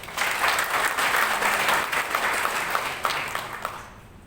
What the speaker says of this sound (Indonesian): saya minta teman-teman semua guru honor dan anak-anak tepuk tangan untuk teman-teman wartawan